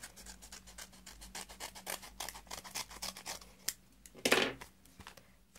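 Paper envelope from the mail being torn and cut open, close scratchy rustling with rapid repeated strokes and a louder rip near the end, no talking.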